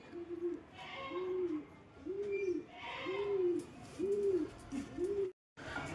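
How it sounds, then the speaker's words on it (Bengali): A female pigeon coos in a steady series of six low, rounded calls, close and clear, each swelling and fading with short gaps between, with no voices. "এই হচ্ছে কবুতরটা,"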